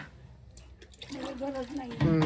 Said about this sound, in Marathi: मा पाणी भरत आहे